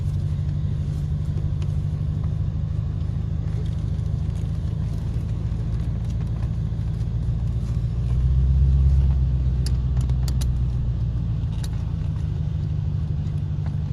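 A 1984 Chevrolet Corvette C4 on the road, heard as a steady low engine rumble and road drone throughout, swelling briefly louder partway through before settling back to an even cruise.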